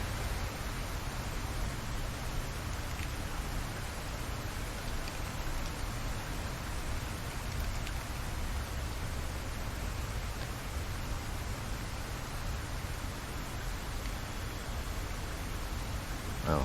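Steady rain from the Minecraft video game with a shader pack falls in a continuous, even hiss of droplets, soft and uniform throughout with no talking over it.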